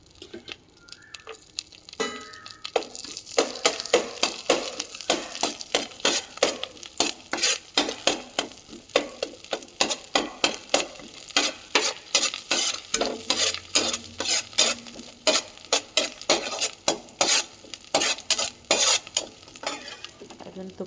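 Raisins and cashews stirred and fried in hot ghee, a steady sizzle with quick, rhythmic scraping and clinking of a spoon against the pan, close and continuous with no talking.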